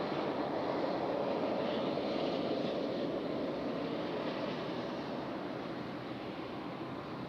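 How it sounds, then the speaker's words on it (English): A JetBlue Airbus A220 airliner landing at Raleigh-Durham airport produces a steady, broad engine roar that fades slightly toward the end, with no other sounds over it. "a JetBlue A220. Gonna have our JetBlue up nice and close."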